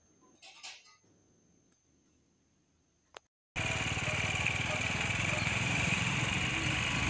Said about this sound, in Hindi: हालांकि रोड खराब होने के कारण बाइक की आवाज़ ज़्यादा आ रही है, न कि मालगाड़ी की।